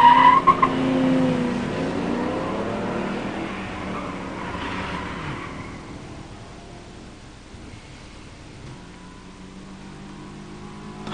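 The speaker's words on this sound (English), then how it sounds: "In the near lane, Steve Walsh in an 87 Mustang 302 5-speed. In the far lane, Bill Bartels 62 Impala dual quad 409 4-speed" A 1987 Mustang 302 five-speed and a 1962 Impala dual-quad 409 four-speed launch in a stock drag race, with loud engine roar and tire noise up close that fades steadily as the cars pull away down the strip.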